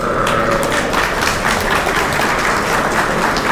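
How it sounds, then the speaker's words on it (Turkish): An outdoor crowd at a small-livestock festival in Inegöl, Bursa, claps steadily throughout, a dense continuous patter of applause at moderate distance. "Teşekkür ediyoruz, alkışlıyoruz."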